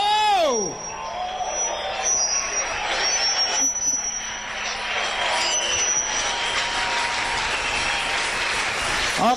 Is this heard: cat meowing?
no